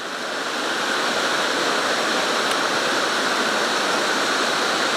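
Waterfall at Bout du Monde, a steady, loud, close rush of falling water that fills the whole stretch without a break.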